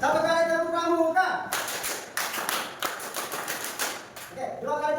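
A classroom of students performing a scout clap: a burst of rapid, rhythmic group clapping, with voices heard just before and after.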